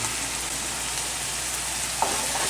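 Chopped scallions and fresh oregano cook in a sauce pan for a gnocchi cream sauce, giving an even, continuous sizzle with one small clink near the end.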